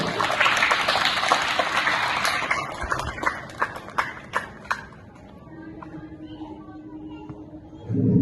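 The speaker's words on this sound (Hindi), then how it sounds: "ऐसी शख्सियत के लिए ताली होनी चाहिए कि नहीं होनी चाहिए?" Applause from a crowd at a Republic Day school celebration honoring a teacher, a loud burst of clapping that thins into scattered claps before fading, with some voices in the background.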